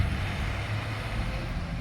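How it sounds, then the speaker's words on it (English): A loud, noisy truck rumbles past close by as steady, broadband road noise with heavy low-end roar, holding level throughout with no talking. "Noisy truck."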